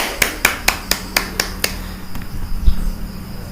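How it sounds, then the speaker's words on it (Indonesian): Classroom applause for a student group after a peer-teaching presentation: about seven evenly spaced sharp claps, close and clear, then fading into faint room noise. "Kita berikan tepuk tangan dulu untuk kelompok 1."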